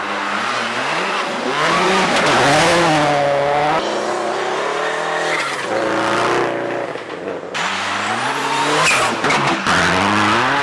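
A Bentley Continental GTC, BMW 650i and Audi A5 convertible drive hard on a snowy Michigan rally road, their engines revving and shifting loudly up and down, with tires squealing and skidding throughout, close and continuous.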